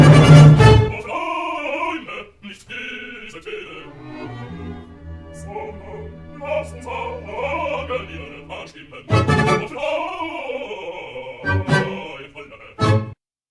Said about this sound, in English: to use this recording by Gardiner to show you what 96 would mean.